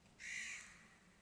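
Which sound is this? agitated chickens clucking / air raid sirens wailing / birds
birds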